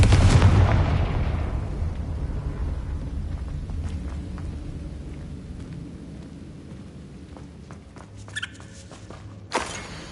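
A Confringo fire spell blast in the Hogwarts Legacy video game, a loud booming burst at the start that rumbles and slowly decays, followed by faint clicks and a brief sharp crack near the end.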